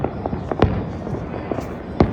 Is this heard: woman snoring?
no